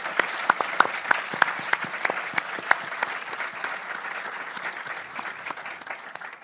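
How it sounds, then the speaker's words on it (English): A convention audience at a design panel claps, opening with sharp, scattered claps that settle into steady applause, heard at moderate distance. "So please give a round of applause to all of these guys."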